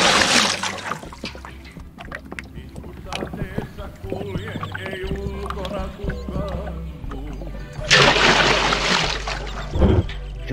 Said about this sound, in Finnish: Se pitää lähteä vettä nostamaan tuolta laiturin nokaista.